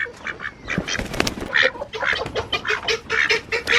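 Ducks and a goose quacking and honking on a farm, a dense run of repeated calls close by, several birds overlapping with no talk.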